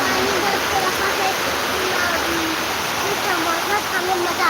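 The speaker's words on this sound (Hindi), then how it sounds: "आज पानी बरस रहा है इतना तेज?" Heavy rain pours steadily outdoors as a dense, loud, unbroken hiss and splatter, with a voice talking faintly beneath it.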